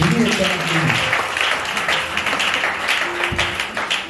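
A church congregation applauds with steady, dense clapping throughout, with some voices mixed in.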